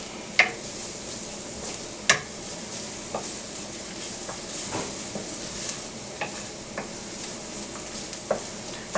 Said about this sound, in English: I toast the garlic